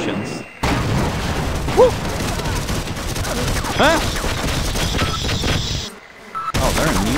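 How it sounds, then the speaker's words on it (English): Gunfire and explosions crackle through a Half-Life VR firefight, sustained bursts with a few sharp booms, heard under a player's excited shouts and talk. "I hear explosions"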